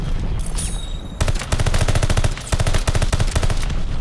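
Rapid machine-gun bursts in the shooter Call of Duty: Vanguard, loud close shots firing in quick regular strings with short pauses between volleys.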